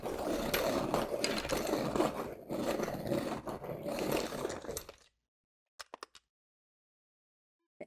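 An Ohuhu oil-based colored pencil is turned in a sharpener for about five seconds, making a close, steady grinding scrape, followed by near silence and a few faint taps.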